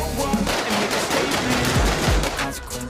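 A human voice imitating World War I machine-gun fire, a rapid sputtering stream of mouth-made bursts, close and fairly loud, lasting a few seconds.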